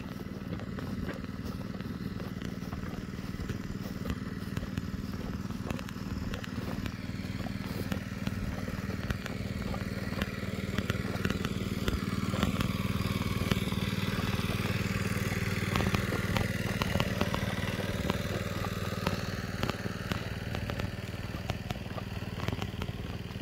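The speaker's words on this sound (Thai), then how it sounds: "ตั้งเครื่องสูบน้ำนะครับ" A water pump engine drones steadily in a rice field during rice planting, a constant, fairly loud mechanical hum with clattering texture that holds throughout with no talk.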